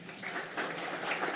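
Warm applause from a church congregation at a Sunday service, a steady moderate patter of clapping that fills the brief moment.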